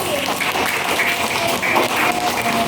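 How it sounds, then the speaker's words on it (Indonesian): Elementary school pupils in a classroom give a short round of applause, a steady rhythmic patter of many small hands clapping together, moderately loud and sustained with faint voices beneath. "Sekarang berarti kita beri tepuk tangan untuk Vicky."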